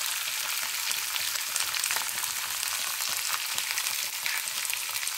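Cauliflower and carrot sizzle vigorously in a hot pan of oil, a dense, continuous crackling hiss close by with small pops throughout.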